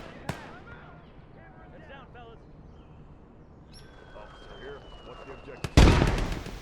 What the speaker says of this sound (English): enemy heavy artillery started firing my infantry units as well